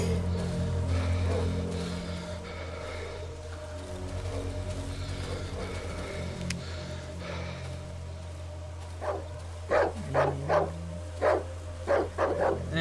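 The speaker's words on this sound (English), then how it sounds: "There's dogs everywhere." Dogs bark in the video game Darkwoods, with several sharp, loud barks in a quick cluster toward the end after a stretch of low, murky ambient game sound.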